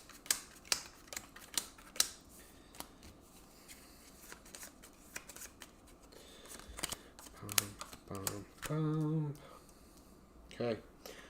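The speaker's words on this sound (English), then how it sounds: "Alright, shuffle this up." Board game cards from Legacy of Yu being shuffled and handled on a table, a run of brisk papery riffles and snaps with short pauses between them, fairly close, with a brief voice near the end.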